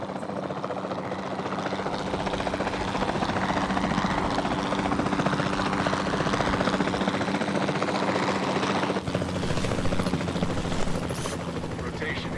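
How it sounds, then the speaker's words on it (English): Capture team helicopter in Jurassic World Evolution 2, a continuous loud rotor chop and engine drone heard close throughout, with a brief shift in tone near the end. "Then the sensible thing is to take a capture team helicopter."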